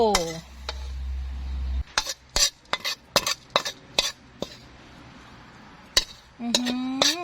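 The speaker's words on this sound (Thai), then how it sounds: "เราจะเทผัดขี้เมาของเราเลยนะคะ" Thai drunken stir-fried instant noodles are scraped and tipped from a pan with a spatula: a low hum gives way to a quick series of sharp metal clinks and scrapes. A short voice is heard at the start and end.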